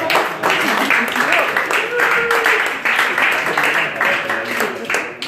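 An audience claps at a diploma ceremony, a dense, steady round of applause lasting several seconds, close and loud, with a voice speaking briefly over it.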